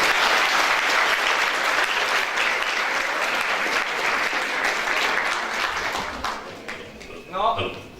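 An audience at a university event claps steadily for about seven seconds. The applause thins toward the end, and a voice briefly rises over the fading claps.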